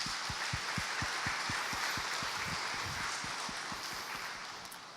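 A church congregation claps together in an even, sustained round of applause, many hands blending into a dense, steady patter that slowly tapers toward the end.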